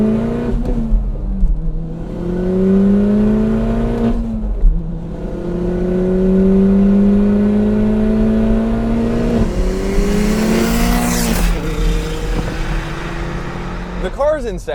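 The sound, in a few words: car accelerating in first gear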